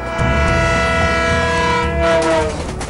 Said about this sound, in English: The sound of an approaching train